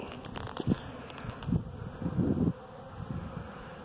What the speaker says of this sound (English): I've got bees going in a hive that doesn't have any bees in it